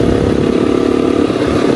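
KTM RC 125 motorcycle running at speed, a loud, close, continuous buzzing engine note with a steady throbbing pulse under strong wind rush.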